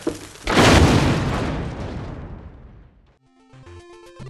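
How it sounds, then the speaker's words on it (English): A bomb block explodes in Tengen Tetris on the NES. A loud booming blast rises sharply and decays over about two and a half seconds, followed by a short electronic jingle of game music. "This Tetris has bombs."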